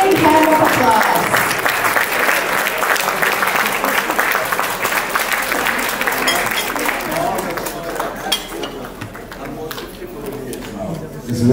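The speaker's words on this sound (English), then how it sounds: "A big hand of applause." Banquet guests at a 90th birthday dinner applaud a bouquet presentation with dense, sustained clapping that fills the room, thinning slightly toward the end, with a few voices heard beneath it.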